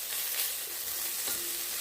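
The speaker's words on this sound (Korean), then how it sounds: "황태가 타지 않고 중불에서 이렇게 잘 볶아지고 있거든요." Dried pollack stir-frying in oil in a pot over medium heat gives a steady soft sizzle with faint stirring scrapes.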